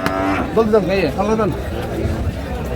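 At a cattle market, cows low in a few rising and falling calls amid a busy crowd, with people chattering and talking close by over the animals.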